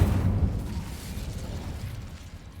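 A fire spell burst in Hogwarts Legacy, a loud low whooshing boom at the start that rolls into a fading crackling rumble over nearly three seconds.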